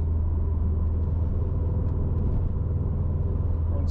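Subaru GR/VA STI on a road test drive, a steady, loud low engine and road rumble from inside the car, constant throughout with no clear rise in pitch.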